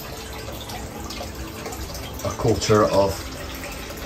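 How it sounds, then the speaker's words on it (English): Fresh water runs into an indoor koi pond through a dechlorinator, a steady close trickle and splash that grows louder midway, with someone speaking over it briefly. "fresh water going in there. Just going through the dechlorinator"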